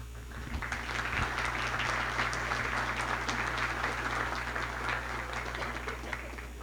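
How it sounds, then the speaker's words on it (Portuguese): An audience applauds to welcome a speaker and his wife at an evening church testimony event, steady clapping sustained across the whole clip over a constant low hum. "Vamos recebê-los, então, com muito carinho, uma salva de palmas."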